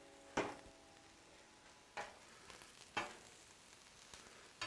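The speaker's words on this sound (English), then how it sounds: "Let's go with the serrano in there. Let that cook in with it." Serrano peppers and onion frying on a Blackstone griddle give a faint, steady sizzle, broken by a few short sharp ticks and scrapes from stirring.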